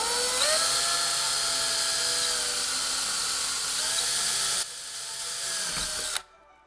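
A power drill bores a 1/8 inch hole in a guitar effects pedal housing, making a close, loud whining drone that shifts in pitch as the bit bites, then cuts off abruptly after about six seconds.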